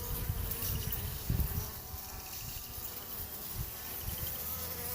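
A swarm of bees buzzes in a dense, continuous drone close to the microphone, with individual bees zipping past now and then against the steady hum.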